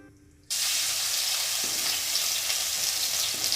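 Crushed ginger and garlic hit hot oil in an iron kadai with a sudden loud, steady sizzle that starts after a brief quiet moment and carries on evenly to the end, with no voices.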